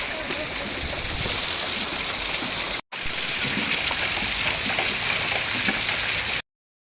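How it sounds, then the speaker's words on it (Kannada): Heavy downpour in Vijaypur, a steady dense hiss of rain on surfaces close by with a brief cut just before the three-second mark, then continuing unbroken until it stops abruptly. "ಇನ್ನೂ ಮಳೆ ನಿಂದ್ರಲಾಗೈತಿ ಫುಲ್ ಜೋರಾಗ್ಬಿಟ್ಟೈತಿ"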